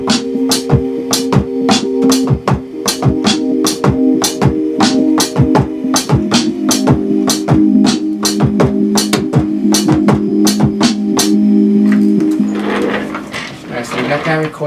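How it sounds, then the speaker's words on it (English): A drum groove is played live from sounds programmed on an MPC, with dense, sharp hits in a loose rhythm over a sustained tonal bed, loud and close. "What I want to do now is get a groove, a drum down. So what I've done is program some sounds to my MPC,"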